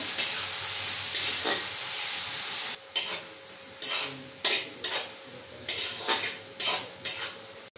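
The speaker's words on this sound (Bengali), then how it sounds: "বিনস আর গাজরটা ভাজতে থাকবো।" Chopped beans and carrots with a little salt frying in a pan for fried rice: a continuous close sizzle broken by regular stirring scrapes, with no speech.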